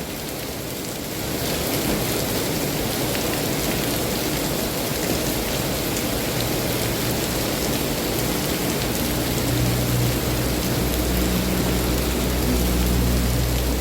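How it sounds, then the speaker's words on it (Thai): Heavy rain pours steadily in a dense, continuous hiss, with a low rumbling undertone throughout and no voices. "เรื่องบรรยากาศทุกท่านเลยฝนตกหนัก"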